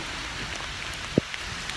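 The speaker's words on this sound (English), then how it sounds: "It's like really, really raining." Heavy rain falls steadily outdoors during a group walking tour, a dense broadband hiss throughout with one sharp close tap or thud partway through and a few faint drips.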